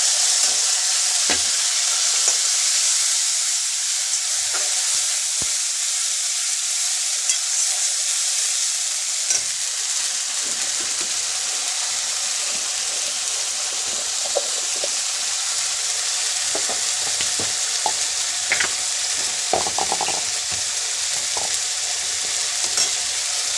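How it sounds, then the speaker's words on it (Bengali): Onion, garlic and ginger paste sizzles and fries in a hot pan with occasional stirring scrapes, a steady close crackle filling the whole stretch. "পেঁয়াজ রসুন আদা বাটাটা ধরে দেবো"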